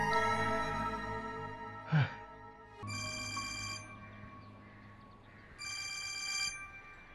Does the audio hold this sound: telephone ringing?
yes